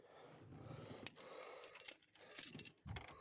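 Close metallic jingling of keys being pulled out and shaken, with bright rattling bursts coming in uneven clusters.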